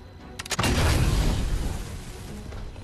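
Gunfire in Fortnite Battle Royale: a couple of sharp cracks followed by a loud, rolling boom that slowly decays, close and alone without talk.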